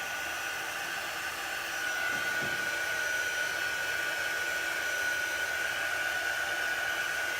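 A hair dryer blows steady, close, even airflow with a faint whine as it dries a grape soda chalk paste, growing slightly louder partway through and holding constant without voices.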